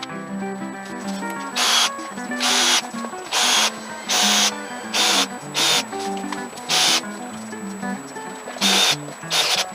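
A power drill boring holes in a boat deck during hull repairs: about a dozen short, loud whirring bursts, each lasting under a second, spaced fairly evenly with quieter gaps between them.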